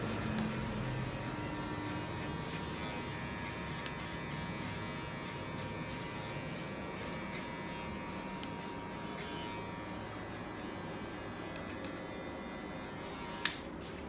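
Electric hair clipper running steadily while cutting and blending hair in a barbershop training haircut, a continuous close buzz lasting the whole stretch with one brief sharp click near the end.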